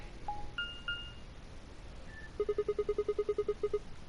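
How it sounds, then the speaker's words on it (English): A notification jingle in the video game Zero Escape: Virtue's Last Reward: a few rising electronic tones, then a quick run of about a dozen pulsing beeps, clear and alone. "must be some sort of notification thing"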